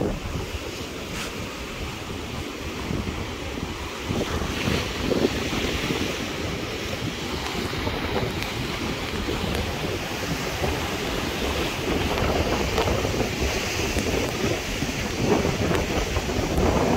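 Ocean waves washing onto Chaloklum Beach on Koh Phangan, a continuous loud roar of surf mixed with gusty wind buffeting the microphone, with no voices.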